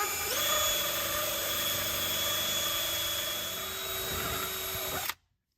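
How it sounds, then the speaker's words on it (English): A power drill grinds away plastic from a car stereo dash trim piece during a Honda Civic stereo install, a steady high whining buzz held for about five seconds before stopping abruptly, close and loud. "I've got a drill, and I'm just going to drill a little bit of the plastic off."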